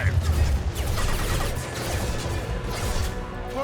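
Rapid weapon fire and crashing impacts in a Mass Effect 2 firefight, a continuous loud barrage with whooshes and thuds mixed in.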